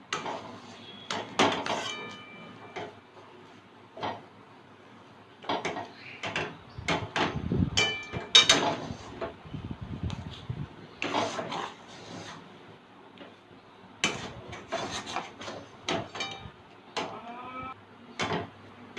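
Green plantain dhoka mixture being sautéed and stirred in a pan, giving close, irregular scrapes and knocks of a spatula against metal in short bursts with brief pauses, no talking.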